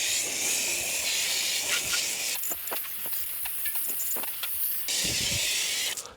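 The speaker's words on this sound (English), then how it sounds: "So the last stage is we just rinse off the wheels." A pressure spray rinses car wheels, a loud hissing jet that softens and patters from about two and a half to five seconds as the stream hits the rim, then returns to full hiss.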